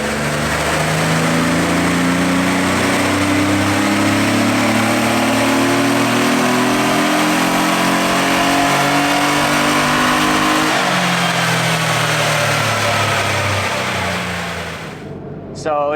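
Air-cooled Porsche 911 engine from a Dakar-style build revving on a dyno, a loud sustained pull with rising and falling tones that holds for about fourteen seconds before cutting off abruptly.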